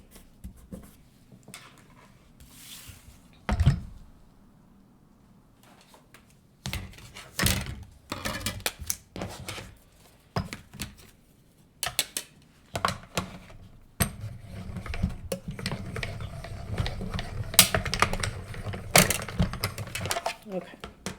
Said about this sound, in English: Now I think we're done die cutting.